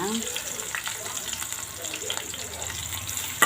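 Onions sautéing in masala for salna sizzle in a pan, a continuous moderate frying hiss with scattered stirring clinks and scrapes.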